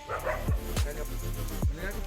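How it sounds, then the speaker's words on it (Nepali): Several dogs bark in a village, three or four distinct barks spaced out over a steady background hum, fairly close but not loud. "हाम्रो गाउँमा चाहिँ कुकुरको चाहिँ अब कमी छैन रहेछ"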